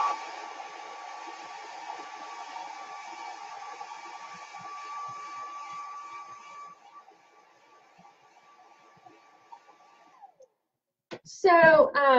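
A dryer blows steadily on a craft piece, a close whine and hum with a steady tonal pitch that drops and cuts off near the end, followed by a brief burst of louder clatter.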